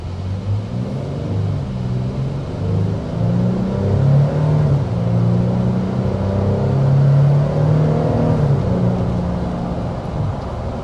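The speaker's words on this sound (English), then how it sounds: "I just really dig the raspy growl this engine makes." The V6 engine of a 2025 Nissan Frontier PRO-4X pickup revs with a raspy growl, a loud, continuous close rumble that swells and eases in waves over several seconds.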